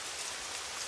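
Steady rain falling, a dense even hiss of drops on surfaces, continuous and moderately loud with no voices.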